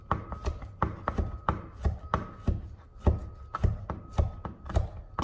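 Knife chopping fermented Namet sucuk into thin slices on a cutting board in a home kitchen, a quick, fairly regular series of close, crisp taps with no talking.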